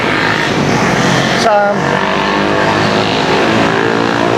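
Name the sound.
noisy motorbikes with sport mufflers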